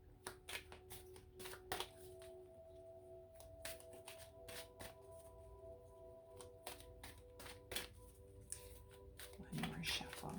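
Oracle cards being shuffled by hand, a run of quick riffling slaps and snaps of varying loudness close by, with faint tonal background hum and occasional voice under it.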